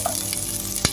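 Chopped and ground onions sizzling in a pan while being fried for a rezala meat curry, a steady frying hiss with a brief stirring scrape near the end.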